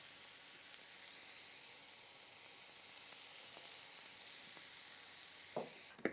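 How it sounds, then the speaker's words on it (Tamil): Onions sizzle steadily in a pan with a pinch of salt added, a soft continuous frying hiss throughout and a couple of brief clinks near the end. "இந்த வெங்காயம் வந்து ஃப்ரை ஆகிறதுக்காக கொஞ்சம் சீக்கிரம் ஃப்ரை ஆகிறதுக்காக ஒரு சிட்டிக்கு உப்பு போட்டுக்கிறேன்"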